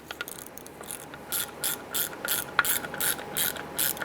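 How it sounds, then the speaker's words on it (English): A ratchet tightens conductor plate bolts on a 2005-2010 Chrysler 300, clicking in short repeated bursts of rapid pawl ticks, close and fairly loud with brief pauses between strokes. "we'll finish tightening them with the ratchet"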